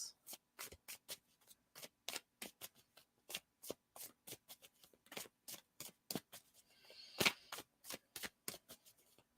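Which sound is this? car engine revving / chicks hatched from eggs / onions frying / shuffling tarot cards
shuffling tarot cards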